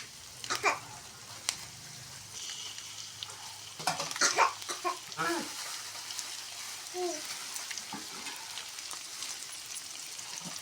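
Ginger garlic paste sizzles in a pan while a spoon stirs it, with close, irregular scraping and clacking strokes in bursts over a low steady frying hiss and a brief faint murmur of a voice.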